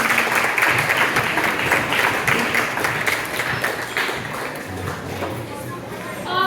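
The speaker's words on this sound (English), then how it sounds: "So, one more round of applause for everybody who's done this thing." Applause from the audience at a spring season banquet for a youth program with players and parents, a sustained clatter of clapping mixed with crowd murmur and voices throughout.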